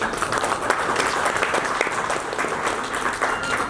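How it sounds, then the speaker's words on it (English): Audience applause at a talk show event on international education, a steady, dense crackle of many people clapping throughout, fairly close and loud with no voices over it. "can we still have a round of applause for them?"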